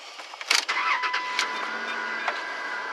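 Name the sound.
car engine starting up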